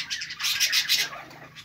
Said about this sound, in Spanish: hoy me estarían saliendo estos pájaros ya con copete